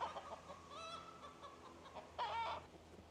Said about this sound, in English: It's just the dogs scaring the chickens in the tall grass.